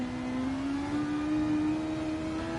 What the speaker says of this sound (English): you can hear the car slipping and sliding